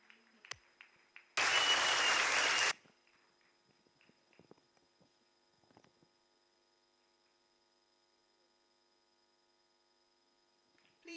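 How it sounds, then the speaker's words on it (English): Applause at an award ceremony for a college's fourth anniversary celebration, a dense burst of clapping lasting over a second before it cuts off, leaving a quiet hall with faint hum and scattered small noises. "Please, let's keep clapping."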